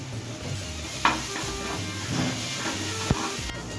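Onions, tomato and slit green chili fry in a pan with salt for a boal fish curry, making a steady, moderate sizzle up close, broken by a couple of sharp utensil knocks.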